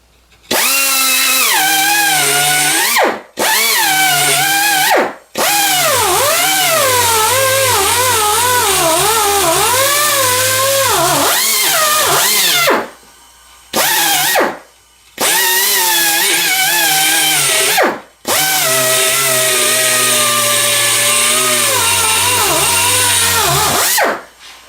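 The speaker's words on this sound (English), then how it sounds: "try the wire wheel on this here" A wire wheel on a power tool scrubs a wood stove, a loud continuous whine that rises and falls in pitch as the wheel bites and eases off, broken by several short pauses.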